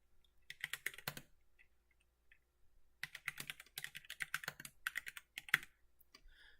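Bash commands being typed on a computer keyboard, heard as quiet, close bursts of rapid key clicks with a pause of about two seconds between the bursts.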